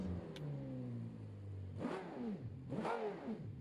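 Car engine with a straight-through muffler in BeamNG, idling with a loud droning note, then two sharp throttle blips that rev up and fall back quickly, loud and raspy.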